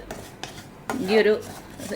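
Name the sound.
stirring puttu flour while dry roasting in pan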